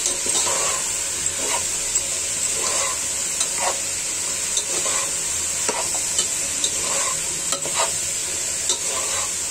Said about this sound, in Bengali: কাঁচা কাঁঠাল আর কাঁচা কলা মাংস এই তিনটা ভেজে নিচ্ছি ভালো করে।